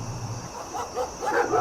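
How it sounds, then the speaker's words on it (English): Dogs bark repeatedly at night amid a search party of armed men carrying lanterns. The short yapping barks come in a loose cluster, moderately distant and fairly faint over a low background. "Dogs barked incessantly."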